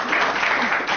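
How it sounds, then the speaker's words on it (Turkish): Applause from wedding guests for a couple's first dance, a steady dense wash of clapping filling the one-second moment at close range with no distinct voices on top. "İlk dansları için alkışlar la."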